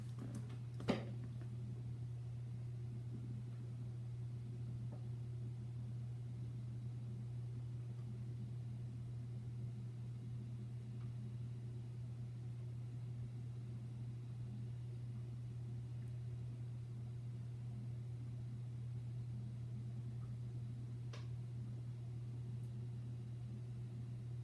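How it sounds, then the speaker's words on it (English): An Acer Aspire AXC-603G desktop rebooting, its hard drive giving off a steady, low, unbroken hum with a faint hiss, quiet and constant, plus a single soft click near the start. "The hard drive is very loud. I can hear it just from sitting at my desk."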